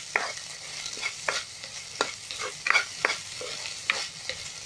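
Onions and vegetables for egg noodles stir-fried in a pan, a bright crackling sizzle punctuated by rhythmic scraping strokes of a spatula roughly every half second.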